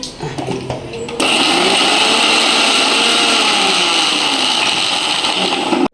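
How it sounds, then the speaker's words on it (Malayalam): A mixer grinder whirs loudly and steadily, grinding garlic, fennel, turmeric, chili and salt into a paste. It starts abruptly after a moment of softer kitchen noise and runs without a break until it cuts off. "അപ്പോൾ ഉപ്പും കൂട്ടിയിട്ട് നേരത്തെ പറഞ്ഞ ഇൻഗ്രീഡിയൻസ് അരച്ചെടുക്കട്ടെ കേട്ടോ."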